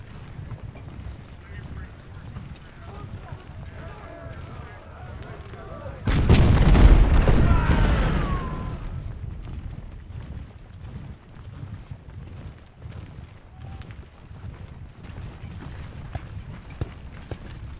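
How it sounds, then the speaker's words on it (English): Cannon artillery fires in a Civil War strategy game set at the First Battle of Bull Run: a single heavy, rumbling boom that swells and fades over about two seconds against a low battlefield background. "If you want these cannons to do any damage, you have to wait to fire until they are all up in your grill"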